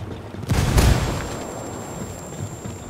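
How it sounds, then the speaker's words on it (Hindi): Grenade explosion in the Ghost Recon Wildlands multiplayer video game, a loud booming burst about half a second in that rolls off into a rumbling tail of distant gunfire and low noise. "ग्रेनेड मारो ना."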